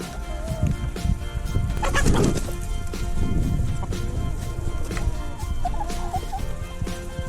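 Backyard chickens feeding from a pipe feeder cluck and murmur continuously nearby, with pecking taps and scattered low bird calls throughout.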